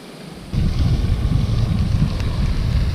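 Wind blowing outdoors while bass fishing, a steady rushing buffet that swells loudly after a brief quieter moment and holds as a constant low roar across the mic.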